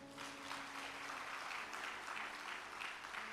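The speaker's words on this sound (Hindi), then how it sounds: "10 सेकंड लेट बजानी थी ताली आपको" An audience claps at a Hindu devotional katha gathering, giving dense, steady applause for the whole stretch with a faint sustained instrumental drone underneath.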